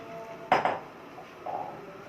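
A spoon scrapes and knocks inside a cooking pot as unwashed-free rice is stirred just after going in, two quick close clinks followed by a softer scrape a second later, with no talking.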